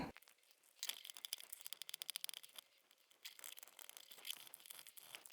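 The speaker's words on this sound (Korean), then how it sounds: "이 닌텐도를 둘러싼 이 정체불명의 이 비닐 스티커는 진짜 떼기가 진짜 어렵네요" A plastic film sticker is peeled off a Nintendo console in a series of quiet, close crinkling and tearing sounds that come in uneven bursts throughout.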